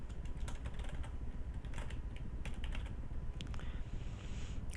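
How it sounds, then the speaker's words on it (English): Typing on a computer keyboard while filling in an online housing registration form: a steady run of quiet, close key clicks with irregular rhythm and no voices. "Make sure you type in your email."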